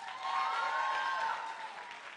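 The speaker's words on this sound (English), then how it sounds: "And let's give Cummings K-8 a round of applause." Audience applause at a school kick-off celebration, clapping for Cummings K-8, a steady wash of hand claps at moderate distance that swells and then tapers slightly, with a faint tonal hum underneath.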